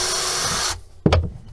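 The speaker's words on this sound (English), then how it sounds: "and then we'll start drilling." A power drill bores an exploratory hole through a boat hull, a loud steady whine for most of the clip that cuts off, followed by a brief knock and rattle as the bit comes free.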